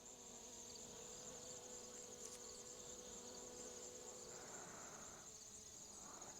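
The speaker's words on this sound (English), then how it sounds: "Bees are waking up." Bees buzz in a farm garden among poppies and blue flowers early in the morning, a steady close drone holding throughout with faint insect chirring behind it and no talking.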